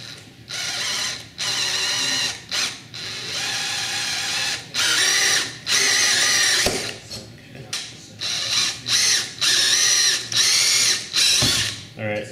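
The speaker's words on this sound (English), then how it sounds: "go ahead and drill out those holes on the drive rail" A power drill bores out gearbox attachment holes in a robot drivetrain's drive rail, loud whining bursts that start and stop repeatedly, close by, with brief gaps between runs.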